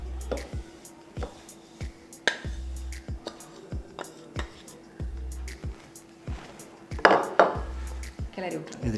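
Broken rice being stirred in a cooking pot for rice rava kichadi, a spoon repeatedly scraping and knocking against the metal in an irregular rhythm, close and fairly quiet, with occasional talk.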